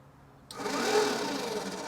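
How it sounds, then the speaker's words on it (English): An electric cooling fan in a TVR 2500M sports car switches on abruptly after a near-silent pause, then keeps up a steady, close whirring hum. "The electric fan has turned on."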